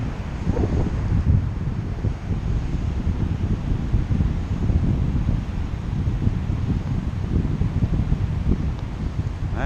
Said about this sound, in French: le vent il longe la pente